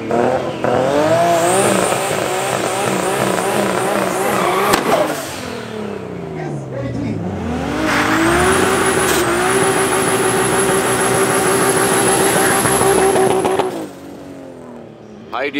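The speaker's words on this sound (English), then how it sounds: "I see this Mark II Supra at the end line doing very well on the bottom end" Cars, including a Toyota Mark II Supra, race down an airfield drag strip, engines revving hard through rising gear pulls with a brief tire squeal, one car passing then another launching loud and close, while voices talk intermittently.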